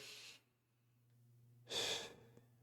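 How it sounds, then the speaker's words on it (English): Deep breathing during a shoulder and chest-opening stretch at a gym: two slow airy breaths, one at the start and a louder one after a quiet pause, close to the listener. "kind of just take deep breaths in and out here"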